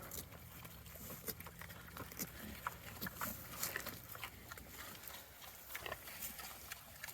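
Pigs eat fresh fruit and pumpkins, with close, irregular wet chewing and crunching, snorts and soft grunts in a quiet, steady stream.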